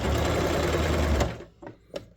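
A sewing machine stitching a zip, a steady fast mechanical whir running loud and close before stopping, followed by a few soft clicks and taps.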